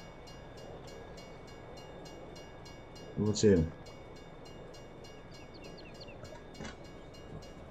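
A train in the video game Farming Simulator 22 runs with a steady, even rumble. A voice briefly speaks over it, and the rumble swells a little for a moment near the end.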